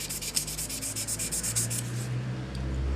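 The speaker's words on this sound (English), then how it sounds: "So we're just going to have to sand this a little bit back" Sandpaper rubs back and forth on a steel decorative stamp in quick, even scratching strokes, close and moderately quiet, over a low hum, then the rubbing fades out.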